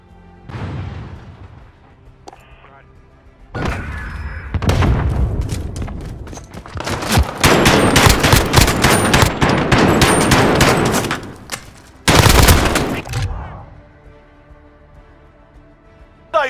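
Heavy gunfire and booming blasts in Call of Duty Modern Warfare, with sustained automatic bursts, rattling volleys and loud impacts building to a dense barrage, then an abrupt sharp blast before fading to quieter ambience.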